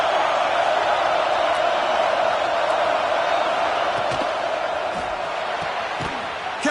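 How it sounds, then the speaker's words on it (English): A packed college football stadium roars in a video game during a playoff game against Penn State, the steady, dense crowd noise holding loud and unbroken throughout with a few faint thumps underneath. "listen to this crowd noise. This stadium is vibrating"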